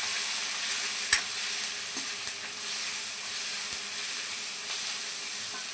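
Chicken sautéing in a pan with salt and turmeric, a loud, steady hiss of frying with a few sharp clicks of a spoon or spatula against the pan as it is stirred.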